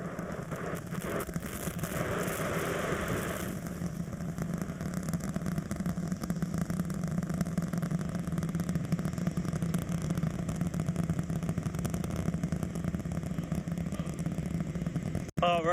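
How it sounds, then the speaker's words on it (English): A SpaceX Super Heavy rocket with 33 Raptor engines roars during launch, heard as a sustained deep rumble from a distance, steady and unbroken with a faint rushing hiss above it. "The rumbles are still building here in the Raptor's nest."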